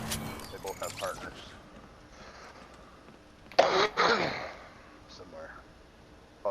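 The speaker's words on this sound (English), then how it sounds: "Apologize for coughing in your ears." A couple of rough coughs burst out close by in the middle, preceded and followed by quieter sounds of someone moving.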